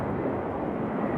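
A jet airliner doing a touch and go at Raleigh-Durham airport produces a loud, continuous engine roar that stays steady and dense for the whole brief moment.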